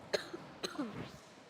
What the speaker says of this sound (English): You're coughing all over my mic, man.